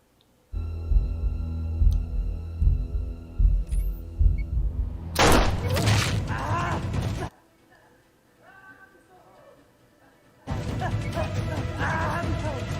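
A grenade explosion in an episode of the TV series Reacher bursts as a loud, harsh blast lasting about two seconds. A second loud, noisy stretch follows later, with dialogue and a steady background underneath.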